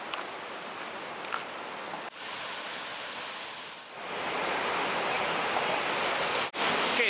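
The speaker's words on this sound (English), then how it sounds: "we've come to a place called Tunnel Falls, where we're actually going to walk behind waterfall" Tunnel Falls on a hiking trail roars as a constant broadband wash of falling water, loud and close, growing slightly fuller partway through and broken by two brief dips.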